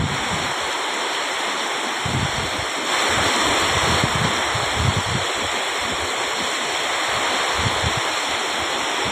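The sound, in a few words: floodwater flowing like a river down a road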